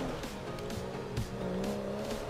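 A car driving in GTA V, with a steady engine drone and shifting pitch as it cruises along, moderately loud and continuous without any speech.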